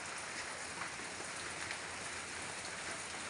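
Heavy typhoon rain falls as a steady, dense hiss, loud and unbroken throughout with no voices.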